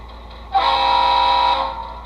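An HO scale model locomotive's horn plays through an iPhone speaker with its holes plugged, one sustained blast lasting about a second, clear and close with a sharp onset.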